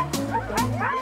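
Sled dogs at an international sled dog race give quick, close yelps and barks, three sharp bursts in about a second, sounding eager and excited.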